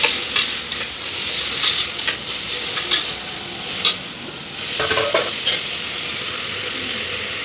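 Soaked, squeezed soybean chunks fry in oil inside a pressure cooker, giving a steady close sizzle punctuated by repeated scraping and clicking stirs of a spoon against the metal pot.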